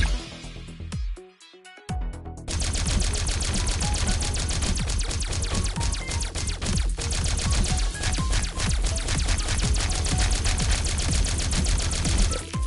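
Rapid-fire shooting at mushrooms in the arcade game Centipede Recharged, a dense, continuous stream of electronic zaps and pops with bright chiming hits layered over loud game music.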